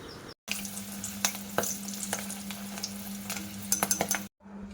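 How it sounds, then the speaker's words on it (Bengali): Two or three green chilies frying in oil next to samosas (singara): a steady sizzle under a faint hum, with light stirring clicks and taps and brief silent breaks at the start and end. "এবার আমি দুটো তিনটে কাঁচা লঙ্কা ভাজা করে নেব।"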